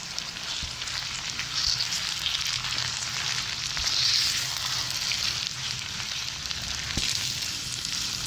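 Minced meat frying with onions in a pan over medium flame, a close, continuous crackling sizzle with occasional stirring scrapes, no voices.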